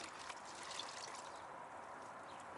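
A wash pad plunged into a bucket of rinse water during a rinseless car wash, giving a soft, steady sloshing and trickling of water, quiet and close, with no talking.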